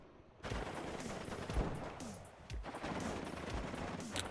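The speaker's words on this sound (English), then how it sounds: "That Dragunov makes a hell of a noise, doesn't it?" Dragunov sniper rifle fire in the WARNO strategy game, several sharp reports spaced about a second apart over a dense, continuous din of battle.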